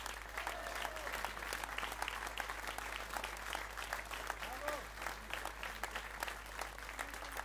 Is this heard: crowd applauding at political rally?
yes